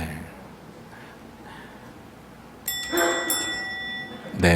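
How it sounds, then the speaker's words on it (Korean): A bright ding-dong-dang correct-answer chime rings out as a short run of clear bell tones over a low background hum, loud and close, with no talk. "네, 딩동댕이에요."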